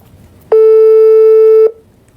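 A single steady telephone tone sounds while someone is being called, loud and close, lasting just over a second before it cuts off, with quiet background on either side.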